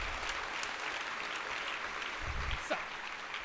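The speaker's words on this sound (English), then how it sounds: "So give yourselves a round of applause." Audience applause at the 2019 Reapercon awards ceremony, a steady wash of many hands clapping throughout, fairly even in level with a brief louder spot near the end.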